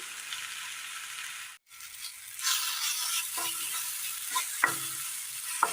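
Chopped tomatoes sizzle and wilt in a hot pan while a spoon stirs them, giving a soft, steady frying hiss broken by a brief pause and several scraping strokes.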